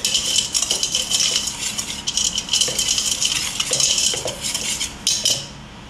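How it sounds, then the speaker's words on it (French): A spoon or whisk stirs sugar and cornstarch for a fraisier cream, scraping and clinking steadily against a metal or glass bowl throughout, close and fairly loud with no talking. "Là je vais mettre mes ingrédients secs. Sucre, maïzena. Je mélange comme ceci."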